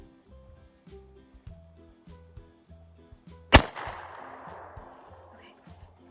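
A gun is fired once, for the first time, with a single sharp loud blast and a short decaying echo, set against faint rhythmic background music.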